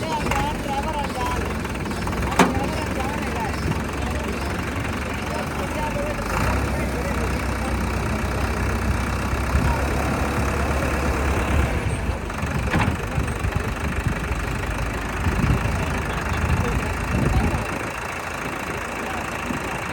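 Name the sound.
Agri Master tractor engine idling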